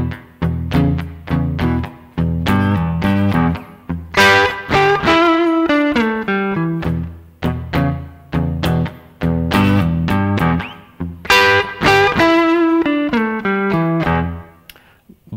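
Electric guitar playing a blues rhythm groove at a quicker tempo, choppy chords repeating in a steady shuffle pattern with brief single-note fills, clear and close with no talk.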